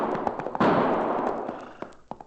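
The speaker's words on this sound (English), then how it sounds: "Not only did I hear those gunshots, Cherokee, but now I can see where they came" Radio drama gunshot effects in a western frontier setting, several sharp reports in a quick irregular volley with one heavier blast in the middle, loud and close, no talking.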